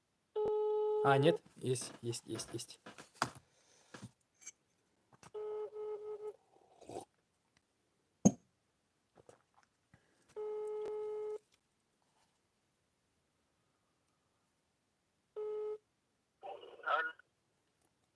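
A phone call rings out through a handset, with repeated busy-signal tone bursts separated by gaps, a short burst of keypad dialing tones, and a voice speaking briefly between them.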